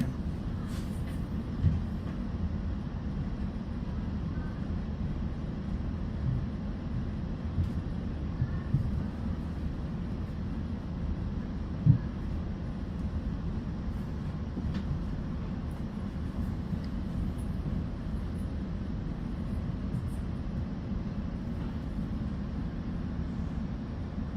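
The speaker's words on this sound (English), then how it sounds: "Please stand away from the door as passengers enter and exit the train." Commuter train running between stops, heard from inside: a steady, loud low rumble and rolling drone of wheels on track throughout, with occasional faint clicks and no talk.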